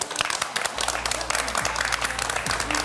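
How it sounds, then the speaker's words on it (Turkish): Television studio audience applause, a dense burst of clapping that stays loud and steady for a few seconds. "Alkışlar."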